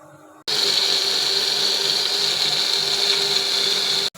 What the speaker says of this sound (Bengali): সব কটা উপকরণ দিয়ে আমি একটু পেস্ট বানিয়ে নেব